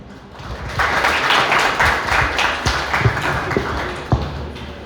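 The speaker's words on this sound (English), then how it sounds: "Let's welcome Sir to stage with a big round of applause" Audience applause welcoming an army aviation lieutenant colonel to the stage at a career counselling seminar, moderate clapping from a seated crowd with a few sharper taps and thumps standing out.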